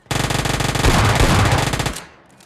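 Sustained burst of automatic gunfire from a powerful gun in PUBG Lite, loud rapid rattling shots for nearly two seconds before cutting off and tailing away.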